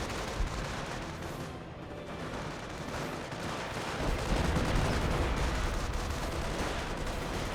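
An artillery barrage rumbles in the Company of Heroes WWII strategy game, dense booming shell impacts and gunfire blending into a continuous heavy roar, growing louder midway.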